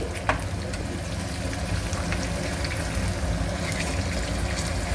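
Dried red chillies frying in hot oil, with garlic already in the pan, for a raw mango pulihora: a steady, close crackling sizzle with scattered pops and spits, loud and unbroken throughout.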